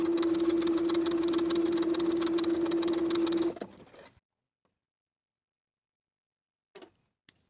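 A sewing machine stitches darts on a shirtdress bodice with a rapid, steady whirring hum for about three and a half seconds, then stops, leaving near silence broken by a couple of small clicks.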